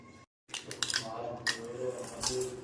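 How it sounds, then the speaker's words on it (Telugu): Ice cubes clatter into a blender jar of sapota milkshake in a home kitchen, sending out several bright, close clinks and knocks after a brief silence, with soft voices in the background. "ఐస్ క్యూబ్స్ యాడ్ చేయి"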